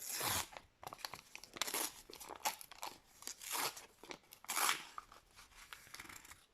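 A small plastic packet is torn open and crinkled by hand up close, a run of sharp rips and crackling rustles in uneven bursts with quiet gaps.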